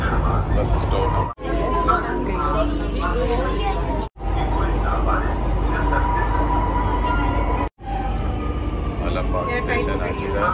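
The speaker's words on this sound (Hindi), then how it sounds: "अमौसी तक ये ट्रेन जाएगी।" Train rumbling steadily along the rails toward Amausi near Alambagh, a loud continuous roar with brief dips, under faint background voices.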